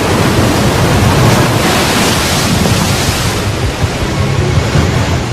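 Monstrous ocean waves and storm winds crash toward the shore in a loud, unbroken roar of surf and gusting air, dense and close throughout with no voices.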